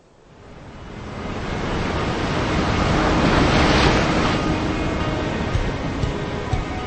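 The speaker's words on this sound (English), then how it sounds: "It's like watching these waves." Large ocean waves break at sea as heard from a jet ski, a loud rushing roar that swells up and holds, with wind buffeting the microphone.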